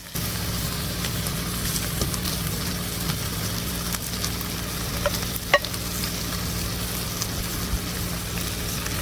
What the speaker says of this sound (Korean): 이젠 그 위에 계란물을 부어주세요